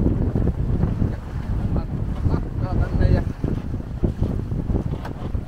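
Sailboat tacking in steady wind near a field of wind turbines, with wind buffeting the microphone and water noise throughout while crew members talk over it.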